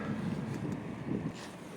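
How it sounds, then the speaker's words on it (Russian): Wind gusts buffet the microphone outdoors at a drizzly street intersection during road repair, a low rumbling rush with no voices. "И ветрено."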